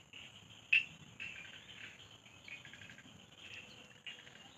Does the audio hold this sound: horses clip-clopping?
no